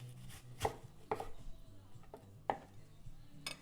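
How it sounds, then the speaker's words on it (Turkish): A small red onion being diced on a cutting board, a handful of distinct knife chops at an uneven pace, close and fairly quiet with no talk. "Böyle küçük küçük keseceğim onu da."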